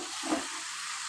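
Panch phoron spices sizzling steadily in hot oil in a pan for a chicken dish, a close, even hiss with a faint stir partway through.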